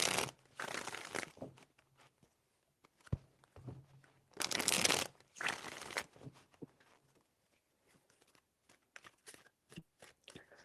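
A deck of tarot cards is shuffled three times in quick riffling bursts separated by short pauses, close and crisp, with scattered light handling taps afterward and no voices.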